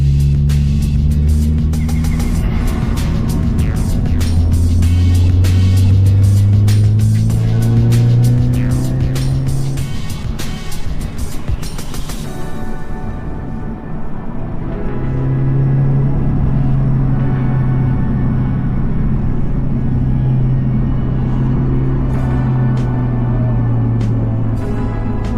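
A 2026 Toyota GR86 Yuzu Edition sports car drives on a track, engine note climbing and falling through gears, then easing off under hard braking before accelerating again, steady and close.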